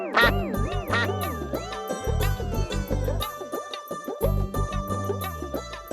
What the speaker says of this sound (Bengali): একটু প্যাক প্যাক করো না।